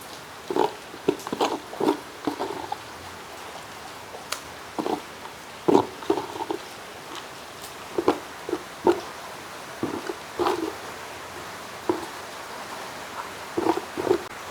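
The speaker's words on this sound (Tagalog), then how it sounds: "Mga ganado po yung aking mga baboy. Di sila nagkakasakit. Masisigla na lahat." Farm pigs eat eagerly at feeding time, a busy run of grunts, snorts and chomping bursts coming close and at irregular intervals, with no talk.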